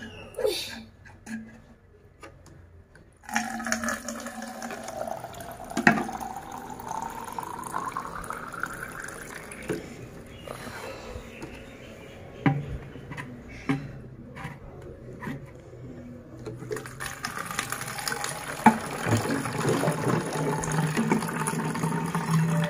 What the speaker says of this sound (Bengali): এই যে কাজটা তো করি জলগুলো ভরি